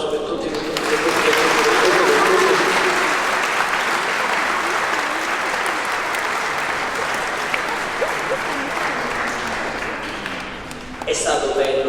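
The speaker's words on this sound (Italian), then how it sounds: "Ci facciamo un applauso per tutti." A church congregation claps together at a Corpus Domini celebration in Francavilla di Sicilia, a dense, sustained round of applause filling the space for over ten seconds before tapering off.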